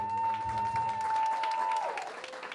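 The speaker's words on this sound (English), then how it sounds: "Can we please give her a round of applause?" Gala audience applauding the executive director of a community revitalization group, crowd clapping and murmuring under a lingering sustained musical tone that fades out partway through.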